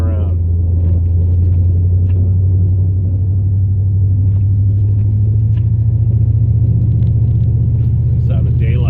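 A plow truck's engine rumbles steadily while driving through a major snowstorm, a loud, constant low drone filling the cab, with someone talking over it.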